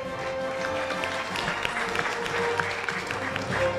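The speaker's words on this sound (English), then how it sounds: "So a big round of applause to every person who is here." Audience applause at an indoor annual corporate conference hall, a steady broadband wash of clapping that continues for several seconds at moderate level, with a voice heard intermittently over it.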